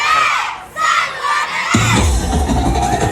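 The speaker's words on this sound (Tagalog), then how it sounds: "Maging ang mga manunood kasing init ng panahon ang naging hiyawan at palakpakan sa kani-kanilang sinusuportahang grupo" Spectators at an outdoor dance showdown in hot sun erupt into loud shouting and cheering, a dense crowd roar that swells sharply partway through and stays strong to the end.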